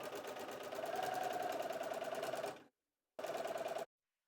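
A Bernina sewing machine fitted with a ruffler foot stitches fabric in a fast rhythmic whir for about two and a half seconds, pauses, then runs again briefly, close and clear.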